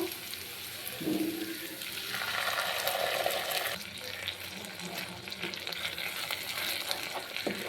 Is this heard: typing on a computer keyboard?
no